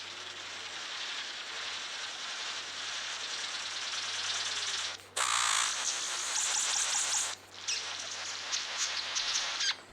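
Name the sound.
King of Saxony bird of paradise buzzing call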